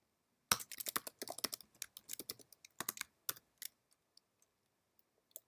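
Rapid clattering keystrokes as C# code is typed on a computer keyboard, a dense burst of clicks that thins into scattered single taps toward the end, close and alone.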